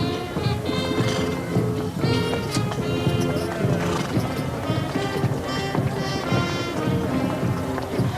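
Horses clip-clop quickly past at a rodeo parade in Tucson, hooves clattering steadily with occasional whinnies, while people talk over the busy street noise.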